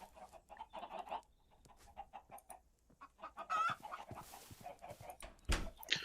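Roosters and hens cluck in the blocky survival game Terrafirmacraft, repeated short clucks near and far scattered across the scene, with a sudden louder thump and rustle toward the end.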